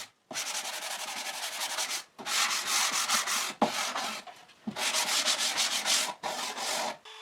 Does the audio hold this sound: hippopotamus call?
no